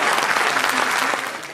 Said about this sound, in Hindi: वहां खड़े दर्शकों ने खूब बजाई तालियां